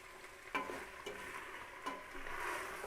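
Beans cooked with meat get stirred in a pot: a quiet, soft bubbling simmer broken by three distinct spoon knocks against the pot's side.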